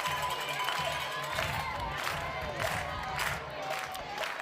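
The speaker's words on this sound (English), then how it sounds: "And the crowd applauds." Crowd at an Arkansas vs Mississippi State college softball game claps and cheers in a loose, distant wash of applause under a broadcast commentator's voice, with crowd murmur throughout.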